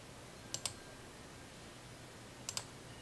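Two quick double mouse clicks land about two seconds apart while someone navigates a vendor catalog import screen in retail software. The clicks are crisp and close against a faint, steady background hiss.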